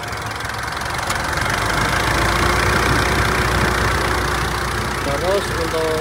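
A Mitsubishi Pajero Sport Dakar 4x2 automatic idles with a steady, loud mid-low drone and faint ticking, heard close under the hood in a dense, constant texture.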